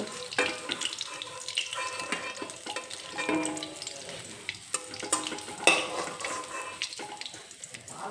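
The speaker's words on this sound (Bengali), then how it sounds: "মাছগুলো আমি একটু লাল লাল করে ভেজে নেব" Bele fish pieces fry in hot oil, giving a steady broadband sizzle with scattered crackles and a few sharper pops, close and fairly loud throughout.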